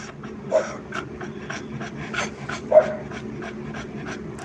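A dog panting quickly and steadily nearby, with a couple of short louder yelps or barks breaking through the breathy rhythm.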